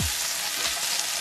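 Food browning in a hot pan as pieces are flipped over: a dense, even sizzle at close range, with a soft thump right at the start.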